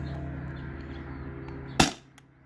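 A single sharp crack from a modified Sabre 68 CO2 air pistol running on a 12-gram cartridge is heard at close range, standing out above a low, steady background hum before fading quickly.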